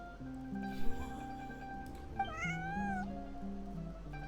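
A single drawn-out cat meow in Genshin Impact rises over soft, steady game music, clear and close.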